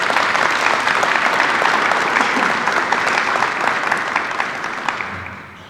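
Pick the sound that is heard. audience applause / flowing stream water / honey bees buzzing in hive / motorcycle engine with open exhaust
audience applause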